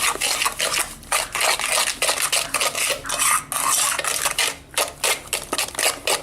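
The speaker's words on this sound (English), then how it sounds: "I'm going to mix it. But we don't have a whisk or a beater, so it's a spoon." A spoon stirs banana bread batter in a bowl, scraping and clattering in quick, steady strokes with brief pauses, close and fairly loud, with no voices.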